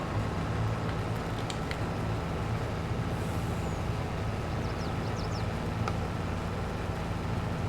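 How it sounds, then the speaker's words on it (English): Truck engine in Farming Simulator 22 runs at a steady low drone, rising slightly as it revs up, with brief air-brake hisses and faint clicks over the continuous rumble. "We can hear that engine rev up when he gets ready to go."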